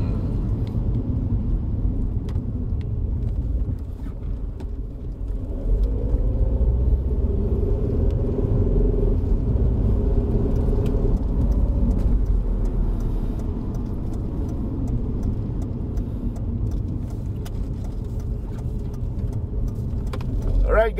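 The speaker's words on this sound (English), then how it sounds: "that was the hill climb for the Mercedes W202" A 1995 Mercedes-Benz W202 engine drones steadily on a wet hill climb. The loud low rumble rises and falls slightly with road and tyre noise underneath.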